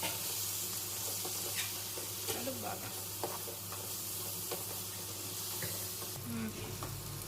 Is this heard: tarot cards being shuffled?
no